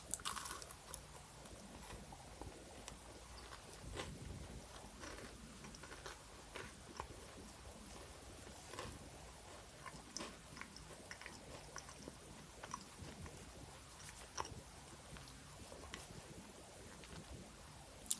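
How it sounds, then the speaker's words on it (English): Someone chews a bite of store-bought cookie, with steady close crunching and mouth noises running throughout, each bite giving faint crisp clicks and no talking. "I'm gonna take another bite of this just to make sure."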